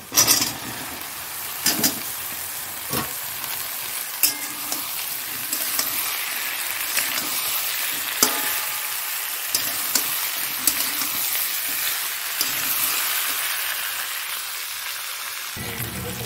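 Onions sizzling in a pan after salt and sugar are sprinkled in, a steady close frying crackle with occasional sharper pops and stirring knocks, no voices over it.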